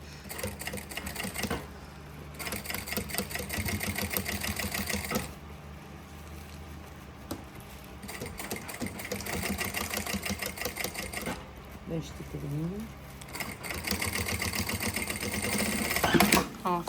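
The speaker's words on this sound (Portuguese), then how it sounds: "agora a gente vai passar uma costurinha prendendo a lateral" Sewing machine runs in bursts while stitching the side seam of a fabric lunch bag, giving a steady fast mechanical rattle that pauses between runs, with someone talking faintly over it.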